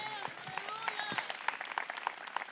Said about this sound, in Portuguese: Dê mais um aplauso a Jesus de Nazaré.